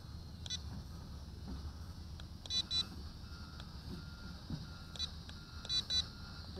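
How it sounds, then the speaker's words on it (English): Short high electronic beeps from a Lishitoys L6056 camera drone controller, some single and some in quick pairs signalling headless mode, spaced apart over a low hum in a quiet setting. "That's headless mode when you hear two beeps"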